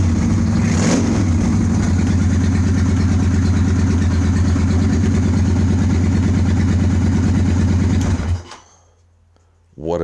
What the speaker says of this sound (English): That idle is a lot nicer now.